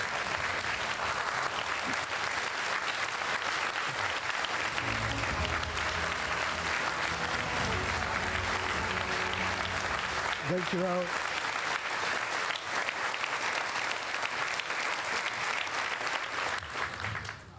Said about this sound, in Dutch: U daverend applaus voor Tom van Grieken